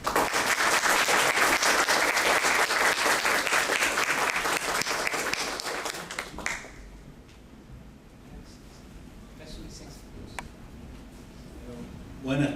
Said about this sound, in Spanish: com uma salva de palmas, eu gostaria de convidar o professor Alejandro.